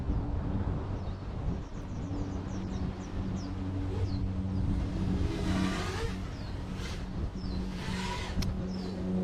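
Small FPV freestyle quadcopter, a 5-inch 250 g quad, with motors punched to full throttle in wind, heard as faint, distant whining bursts that rise and fall in pitch over a low, steady wind rumble.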